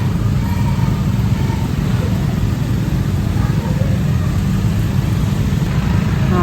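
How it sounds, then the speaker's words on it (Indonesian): Cars crawling in dense holiday homecoming traffic, a steady low engine rumble and road noise, close and continuous without talk. "Jadi ini lalu lintasnya padat merayap."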